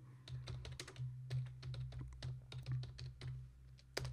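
Quiet, steady typing on a computer keyboard, with rapid clicking keystrokes over a low electrical hum.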